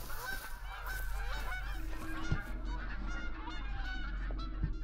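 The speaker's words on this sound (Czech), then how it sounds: "Kachen je tady spoustu hus" Geese in The Hunter: Call of the Wild video game honk continuously, with a whole flock calling over one another at moderate distance, alongside a steady low ambient hum and a couple of sharp knocks.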